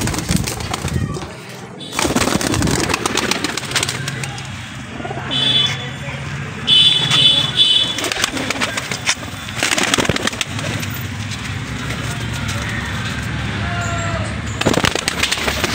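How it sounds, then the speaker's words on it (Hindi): Pigeons kept for sale in Rampur coo softly amid loud bursts of handling and flapping noise, with a busy background din and occasional talk. "ऐसे कबूतर हैं ये टॉप क्वालिटी के कबूतर हैं मेरे दोस्त"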